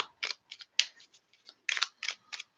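Tarot cards shuffled by hand, a series of short crisp riffling and slapping bursts in an uneven rhythm, close and fairly quiet with no talking.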